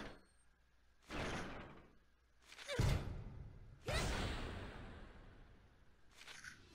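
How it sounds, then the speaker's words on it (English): A door opening in the video game Gravity Rush Remastered: a few separate whooshing, sliding swells with a low thump in the middle, heard alone at a moderate level. "Door."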